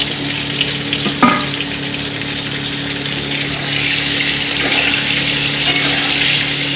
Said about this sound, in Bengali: হালকা করে আলুগুলো ভেজে নেব, নিয়ে আপনাদের দেখাচ্ছি